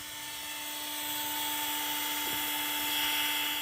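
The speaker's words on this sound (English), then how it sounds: "You're going to want to stir it for about 2 to 5 minutes." A power drill fitted with a paddle runs steadily, stirring a bucket of silicone roof coating with a high, even whine and a soft churning underneath, fairly faint with no talk.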